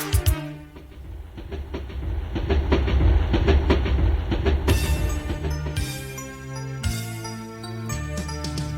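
Steam train chugging and clattering inside a Telugu children's song, a steady rhythmic clack over loud music, with bright tonal accents.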